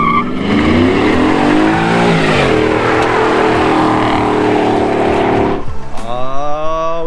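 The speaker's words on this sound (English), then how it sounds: "And now it's time for that burnout." A 2021 Ford F-150 Lariat Sport with a 5.0 V8 and no limited-slip differential does a burnout, the engine held at a loud, sustained high rev with tire noise, then dropping off before a brief rising rev near the end.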